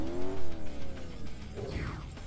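A revving race car engine whines and drops in pitch, then a brief impact-like burst and scraping tones follow, loud and close.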